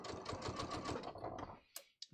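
A sewing machine stitches trouser fabric, running over the top stop of a zipper: a rapid, steady mechanical chatter of needle strokes for about a second and a half, then stopping, followed by a couple of short clicks.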